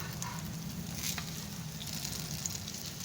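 Food sizzles and fries steadily in a pan while being browned on one side, a continuous close crackle with no talking.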